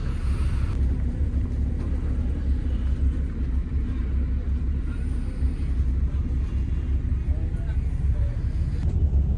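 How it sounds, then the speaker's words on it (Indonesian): An intercity Patas express bus leaving Malang runs with a low, continuous engine rumble and road noise heard from inside the cabin, steady throughout. "saat ini bis yang aku naiki meninggalkan kota Malang"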